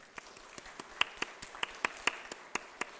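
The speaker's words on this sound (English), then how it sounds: "Then we'll begin to clap our hands." Hands clapping in a loose, irregular rhythm as a church congregation builds a rainstorm sound, a dozen or so sharp claps spread over a few seconds, fairly close and moderately loud.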